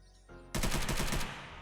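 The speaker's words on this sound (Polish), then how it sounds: "słyszę tutaj gdzieś strzały" A short rapid burst of automatic gunfire in the survival video game Unturned, fairly faint and distant-sounding, lasting under a second with no talking.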